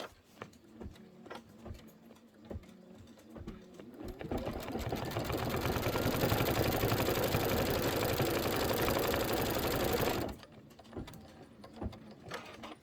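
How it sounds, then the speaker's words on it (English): A sewing machine stitches in the ditch on a quilt, a steady rapid mechanical whir running for several seconds between quieter clicks and handling noises before and after. "I'm going to do some stitching in the ditch"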